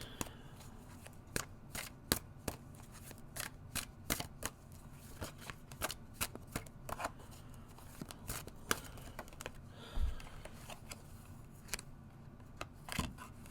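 Tarot cards being shuffled and handled close up, a run of quick sharp riffling and slapping bursts at irregular intervals over a quiet background.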